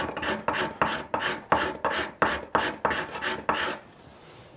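Card scraper drawn across a glued wooden joint on a yellow Les Paul Junior guitar body, making about nine crisp, evenly spaced rasping strokes up close, then stopping.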